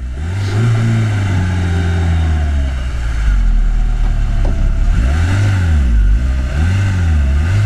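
A 4x4 car engine revs hard in repeated rising and falling surges while stuck in sand, loud and close, straining with a steady low roar underneath.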